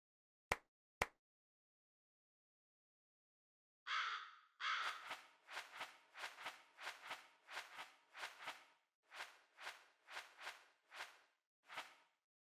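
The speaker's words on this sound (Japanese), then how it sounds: "カスガイガラスは主に連絡用のカラスでございます。" A Kasugai crow in the Demon Slayer video game gives a long run of harsh caws in two bursts, fast and loud, after two sharp clicks and a few seconds of quiet.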